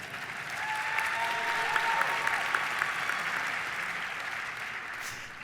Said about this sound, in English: Deputy Mayor Lindsay Appiah, she's my boss, you can clap louder